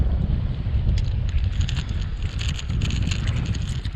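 Steady wind buffets the microphone on a lake bank during a bass-fishing outing, a continuous low rumbling roar with gusty fluctuations and faint higher hiss, no voices.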